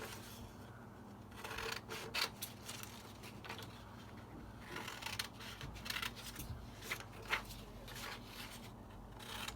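Scissors cutting out a paper hexagon template for a craft stick shelf, quiet irregular snips and paper rustles close by, clustered in short bursts with no talking.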